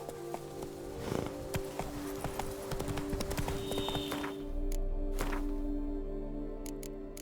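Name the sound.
horse hooves clip-clopping in the video game The Witcher 3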